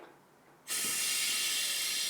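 An FLI Venturi vacuum bleeder for mountain bike suspension is switched on partway through, bursting into a loud, steady rushing hiss of CO2 that continues to the end after a quiet start.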